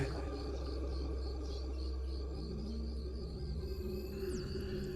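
Crickets chirp steadily at night in a quiet room, a faint continuous high trill with soft pulsing over a low background hush.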